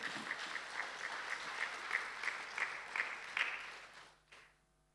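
A crowd claps steadily for several seconds, the applause fading out near the end.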